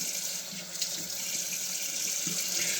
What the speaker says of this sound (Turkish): Ağzımızı da yıkayalım.